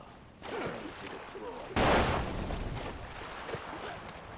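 Gunfire in the video game Ace of Spades comes in faint, muffled volleys, with one sharper, louder burst partway through and scattered softer shots continuing afterward.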